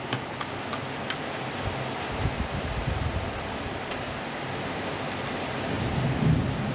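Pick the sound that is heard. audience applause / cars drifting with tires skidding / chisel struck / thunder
thunder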